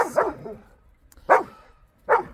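A puppy barks three times, close by, each sharp bark separated by a short pause.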